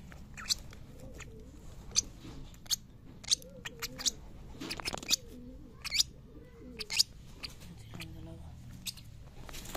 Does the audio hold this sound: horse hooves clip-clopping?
no